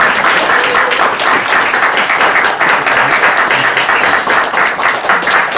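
A congregation applauds during a Sunday church service, producing thick, even clapping that holds steady and loud for the full few seconds.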